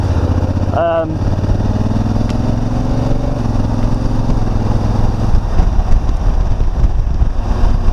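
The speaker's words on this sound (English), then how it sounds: "It's going to basically just go up through the gears as quickly as possible to get to top gear for fuel efficiency." A Honda Africa Twin motorcycle on a test ride, its engine droning loud and steady under wind noise, with a quick pitch drop near the start as it shifts up through the gears.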